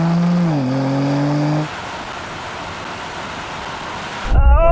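A Mercedes-AMG C63 drag races a BMW M3 Touring, engines roaring loud and close with rising tones through a gear change, then a broad steady rush of speed and wind, and another surge of engine noise at the end.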